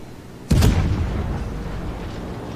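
A warship's gun salvo in the naval video game World of Warships, a single sudden heavy boom close by that rumbles and fades over the following seconds.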